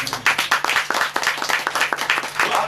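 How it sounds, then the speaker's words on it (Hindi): Church congregation at a pastor's sermon clapping in a quick, fairly loud burst of applause, many hands in close, uneven succession with no speech over it. "बजाओ ताली।"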